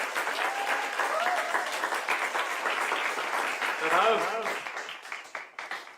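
Loud, dense applause from a crowd right after a singing performance, steady for several seconds before thinning into scattered claps, with voices talking over it.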